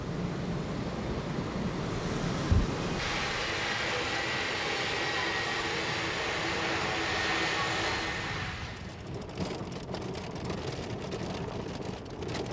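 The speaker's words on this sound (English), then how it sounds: "as we prepare to touch down on Greenland's only international airport at Kangerlussuaq" A passenger airplane touches down at Kangerlussuaq airport in Greenland, heard from inside as a loud steady engine and airflow roar with a thump near touchdown, then a rumbling, rattling rollout.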